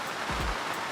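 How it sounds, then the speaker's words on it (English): Steady rain falling outdoors during a storm, a continuous broadband hiss of drops filling the short moment with no voices. "I love the sound of the rain."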